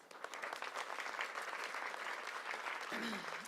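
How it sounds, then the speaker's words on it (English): Steady, dense applause from a crowd at the National Cherry Blossom Festival in Washington, DC fills the whole stretch, a continuous wash of clapping without pause. "Please give him a round of applause."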